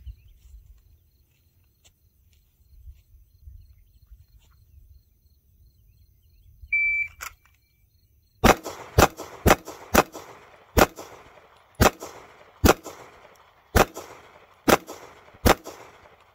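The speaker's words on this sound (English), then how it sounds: "on the buzzer, we're going to take our shots" After a quiet stretch and a short electronic buzzer beep, a SIG P320 pistol fires ten sharp, loud shots in a fairly quick, slightly uneven rhythm, each crack followed by a brief echoing tail.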